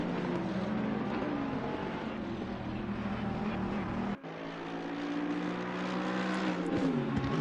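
A Ferrari GT3 race car crosses the start-finish straight at Zolder in a racing video game, its engine a sustained loud drone that dips sharply mid-way on a gear change and then climbs again.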